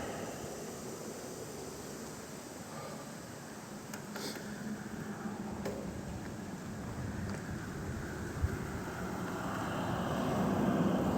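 Steady wind roars across the microphone while cycling on a cold, windy day, a continuous broad rush that swells slightly toward the end, with a few faint clicks.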